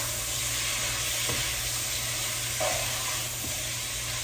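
Vegetables and pork sautéing in a pan for pinakbet, a steady moderate sizzle with a few soft stirring clinks and scrapes over the hiss.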